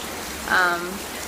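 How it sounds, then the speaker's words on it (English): Steady rain hiss on a porch during Hurricane Matthew, with a brief louder gust or surge in the middle; no talking. "You can probably hear the rain."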